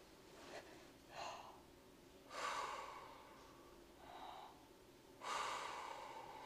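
Slow, deep breaths are taken while bent fully forward in a flute breathing exercise, with several distinct inhales and exhales spaced a second or two apart, close and quiet, without talk.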